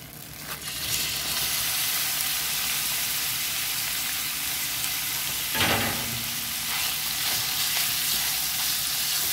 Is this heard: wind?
no